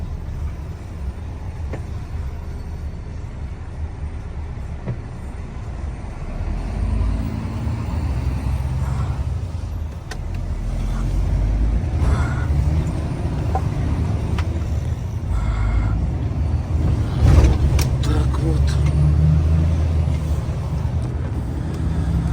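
A vehicle sets off from Yakutsk for home at minus 8 degrees. Its low engine rumble and road noise grow louder and heavier midway, with occasional knocks and rattles up close and no talking.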